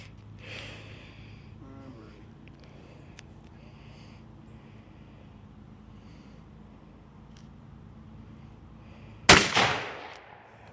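A single loud shotgun blast goes off near the end after several seconds of quiet outdoor room tone, and a long decaying echo trails behind it.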